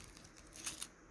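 Crinkly plastic or paper wrapping is pulled off a young garlic plant in a winter garden, giving a short burst of soft tearing and rustling that peaks near the end, faint and close with no talk.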